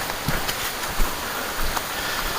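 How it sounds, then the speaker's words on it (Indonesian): Rain beginning to fall outdoors under a dark, overcast sky, a steady broadband patter with a few louder drops, near and continuous with no talk. "Lah udan ae mulai."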